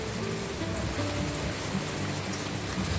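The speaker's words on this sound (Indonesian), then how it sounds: "Karena ini kondisinya lagi hujan" Heavy rain pours down steadily outside, a dense, loud, unbroken patter on surfaces that fills the whole stretch with no talking.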